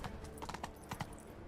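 A horse's hooves clip-clop in The Witcher 3, a quick, soft run of hoof beats in the game's sound.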